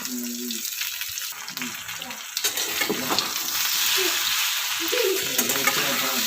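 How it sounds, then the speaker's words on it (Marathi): Colocasia leaf rolls (alu vadi) stirred and shallow-fried in a pan, giving a steady close sizzle with scraping stir strokes throughout and brief dips in intensity. "आणि या वड्या सतत हलवत राहायचे कमीत कमी दोन मिनटामध्ये मस्त असे फ्राय होते परतल्या जातात"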